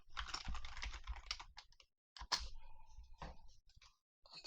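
Rapid clicking keystrokes on a computer keyboard while a C# script is written in Unity, coming in dense bursts with a couple of short pauses, close and fairly quiet.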